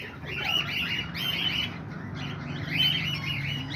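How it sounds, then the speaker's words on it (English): Homing pigeons and rollers stirred up after a hawk attack give repeated chirps and tweets in clustered bursts, moderately close over a low steady outdoor background hum. "Look at all my birds going crazy."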